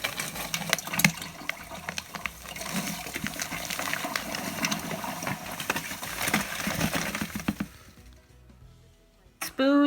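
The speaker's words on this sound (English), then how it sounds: "then top it off with my filtered water that I have here" Filtered water gushes steadily from a container into a watermelon wine mixture for several seconds, then stops abruptly, followed by a brief clink.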